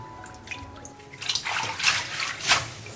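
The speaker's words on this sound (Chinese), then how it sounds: "洗多几遍，把泥沙洗干净。" Fresh cilantro washed in water to rinse soil from the roots, with splashing and swishing that grows busier after a quiet start, in bursts close by.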